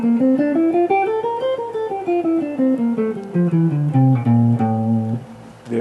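An A Phrygian mode scale, natural minor with a flatted second, rises and falls in evenly spaced single notes from one close, clear instrument, ending on a held low note, no speech.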